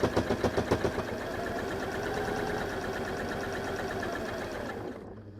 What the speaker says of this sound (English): Make sure it's nice and straight and continue sewing all the way across.